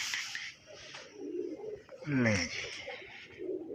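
Pigeons coo in a soft, rolling burst midway through, with other bird calls and a brief word spoken over a background hum.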